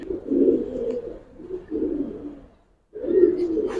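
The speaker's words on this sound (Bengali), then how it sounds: "অনেক সুন্দর কবুতর, মাশাআল্লাহ অনেক সুন্দর" Several throaty coos from nearby Giribaz pigeons, silver bagha and green-necked birds, come in rolling phrases, with a brief silent gap before a final louder coo and no voices.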